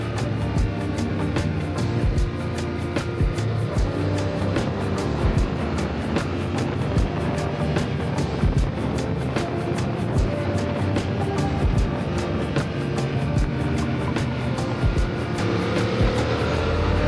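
A vehicle engine on a winding mountain road ride along the Mae Hong Son Loop toward Pai, a steady rumbling drone mixed with rushing wind noise, continuous and moderately loud with small bumps and rattles.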